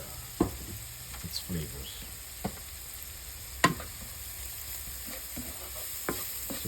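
Onions and garlic fry with a pinch of bouillon powder and salt, a faint hiss under a few sharp spoon clacks and scrapes against the pot. A voice speaks briefly.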